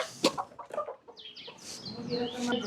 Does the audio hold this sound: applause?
no